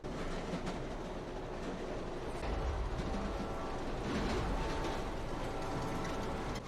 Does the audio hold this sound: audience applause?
no